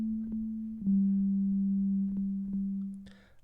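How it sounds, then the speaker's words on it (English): A pure, steady analog synthesizer sine wave holds a single low pitch for about three seconds, with faint clicks as it shifts slightly, then fades out. "I have sine wave."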